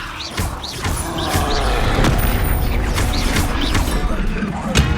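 Spell-casting effects in the video game Hogwarts Legacy: repeated magical bursts, booms and crackling impacts layered over a loud continuous battle din, with whooshing rising tones recurring throughout.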